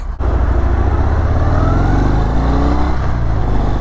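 A 2020 Harley-Davidson Fat Bob motorcycle out on a ride, its engine roaring loud and close in a continuous throaty drone with rising revs as it accelerates, no voices.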